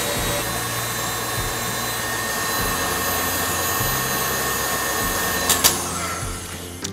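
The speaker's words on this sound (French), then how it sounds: "Vous laissez le robot tourner à 10, vous voyez que là, l'œuf est vraiment bien monté" A stand mixer runs at top speed 10 whipping Italian meringue for macarons, giving a loud, steady whirring drone throughout, with a couple of sharp clinks near the end.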